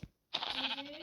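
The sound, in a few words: sheep bleating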